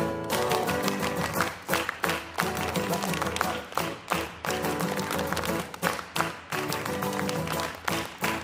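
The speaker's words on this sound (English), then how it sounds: "Clap your hands." Congregation clapping hands in rhythm during a song at a Friday night worship service, steady repeated claps under loud music and singing throughout.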